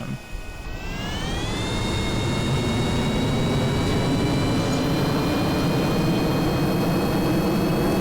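Spaceplane jet engines in Kerbal Space Program spool up within the first second into a loud, steady roar with rising whine tones that then hold level, continuous and close.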